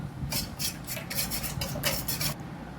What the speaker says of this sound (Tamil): 3 முட்டையை உடச்சி ஊற்றிக்கலாம். இப்போ இது நல்லா மிக்ஸ் பண்ணிக்கலாம்.